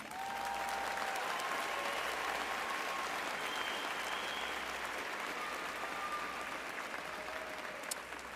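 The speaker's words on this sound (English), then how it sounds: "I would please ask you to give them a round of applause." Steady applause fills a Florida State University summer commencement ceremony, a large audience clapping continuously at even strength from start to finish, with faint voices and whistles under the clapping.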